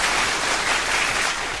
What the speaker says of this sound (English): Can we get the hand clap? Do we have the applause?